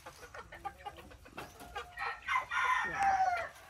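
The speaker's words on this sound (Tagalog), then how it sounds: "sa mga manok ko dito sa farm" Chickens cluck in short, scattered bursts on a farm, with a rooster's crow rising near the end, moderately close and somewhat quiet.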